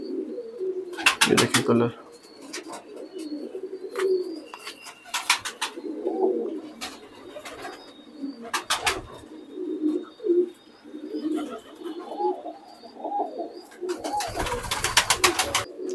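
Pet Indian pigeons at a loft in R.S. Pura, Jammu, cooing in soft repeated low calls across the whole stretch, close by, with someone talking over them and bursts of wing flapping.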